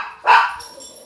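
A dog gives a single sharp bark indoors, fairly close, followed by a brief fading tail.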